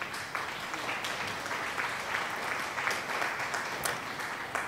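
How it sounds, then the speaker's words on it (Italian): Steady, dense applause from a crowd, even and sustained throughout, moderately loud without any voices on top, cheering a first delivered load in Euro Truck Simulator 2. "Applausi."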